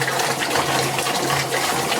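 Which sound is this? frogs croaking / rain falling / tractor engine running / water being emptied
water being emptied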